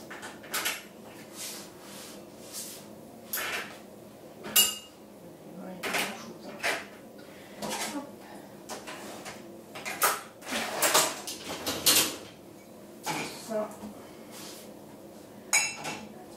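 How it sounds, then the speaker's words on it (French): Breakfast cups and dishes being loaded into a dishwasher in a home kitchen: scattered ceramic clinks, knocks and rack rattles at irregular intervals, close and fairly quiet, with a few louder clatters and faint speech between them. "Avec les tasses du petit déj dans le lave-vaisselle."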